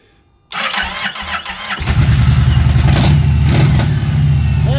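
A Toyota Corolla engine cold-starts after a moment of silence: the starter cranks briefly, then the engine catches and settles into a steady, loud idle close by.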